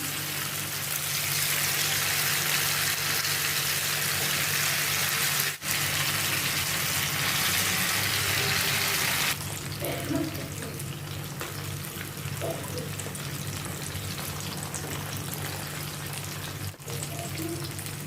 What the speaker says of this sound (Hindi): फ्रेंड्स अभी ये ऑयल गर्म हो गया, इसमें अभी ये पीसेस में फ्राई करने के लिए डालती हूँ पैन में।